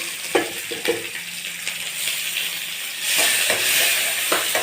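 Onion, garlic, curry leaves and tomato sautéing in a pan hiss and sizzle steadily, with a few stirring scrapes, the frying growing louder near the end.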